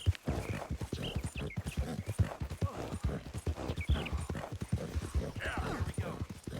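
Steady clip-clop of horse hooves at a walking pace in Red Dead Redemption 2, repeated rhythmic knocks close by, with some faint voice-like sounds mixed in.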